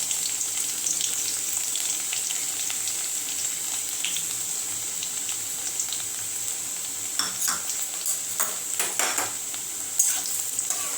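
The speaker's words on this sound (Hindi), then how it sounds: "अच्छे से इसको फ्राई कर लेना है।" Garlic fries in about three tablespoons of hot oil for a chicken wings sauce, a steady close sizzle with occasional crackles and stirring scrapes toward the end, no talking.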